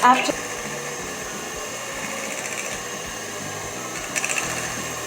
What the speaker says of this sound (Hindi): इसे मैं बीटर के हेल्प से मिला लूँगी, मिक्स कर लूँगी